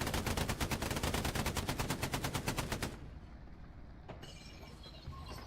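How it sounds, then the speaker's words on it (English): Machine gun fire rattles in a long, rapid, steady burst for about three seconds in the WWII game Hell Let Loose, then cuts off, leaving quieter engine rumble and a single later shot. "Hit it with the MG"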